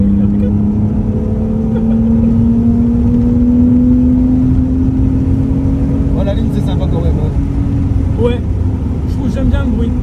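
A BMW M3 E46 with a 343 hp engine and manual gearbox cruises along country roads, its steady engine hum rising slowly in pitch under continuous road noise, with people talking in the car.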